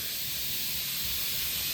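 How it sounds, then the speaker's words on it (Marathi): Steam escapes from a pressure cooker in a home kitchen with a steady, loud, breathy hiss that runs unbroken throughout, with no voices. "कुकरचा येतोय जोरदार आवाज"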